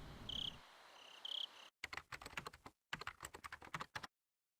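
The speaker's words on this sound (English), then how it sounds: "Oh, typing?" Computer keyboard typing rattles in quick bursts as a sound effect in the visual novel Higurashi, following a faint chirp of crickets, with short gaps between clusters of key clicks.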